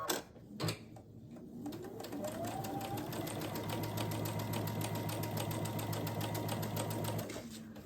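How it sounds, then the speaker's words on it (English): A sewing machine runs steadily for several seconds, stitching a quarter-inch seam on a quilt block with a rapid, even mechanical chatter. It is close and fairly loud, preceded by a couple of handling knocks before it starts. "We'll stitch down this side at a 1/4 inch."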